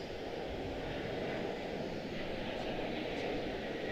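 An airliner passes at Charlotte Douglas airport with a steady, broad engine roar that holds at a constant level across the whole stretch, a distant-to-moderate wash of jet noise with no talk.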